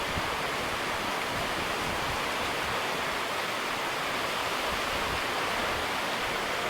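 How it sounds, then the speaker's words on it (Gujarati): Heavy rain pours down after Diwali at a cow shelter, making a dense, unbroken hiss of steady downpour with no other sounds rising above it. "ધોધમાર વરસાદ આવે છે"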